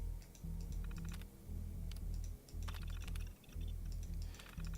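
A password is typed on a terminal keyboard in Fallout 4, a quick run of close keystrokes in short bursts with brief pauses, over a low game hum.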